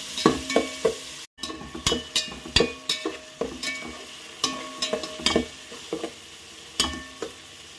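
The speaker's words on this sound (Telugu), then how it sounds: "అందులో ఉల్లిపాయ ముక్కలు వేసుకున్నాము పచ్చిమిర్చి వేసుకొని బాగా కలుపుకోవాలి" Chopped onions and green chillies stir-fry in a pan, a soft sizzle underneath a busy run of repeated spatula scrapes and taps in uneven rhythm, close by with no voices.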